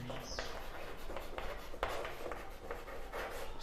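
Pen strokes writing out an equation during a Class 10 maths lesson on zeros of polynomials: a close, steady, scratchy rustle that runs continuously for a few seconds, with brief sharper strokes and no talking.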